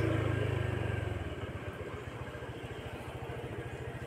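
A motorcycle engine idling close by, a loud low rumble settling into a steady rapid putter that runs evenly to the end with no talk over it.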